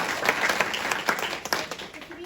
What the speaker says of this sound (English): a big round of applause for Carol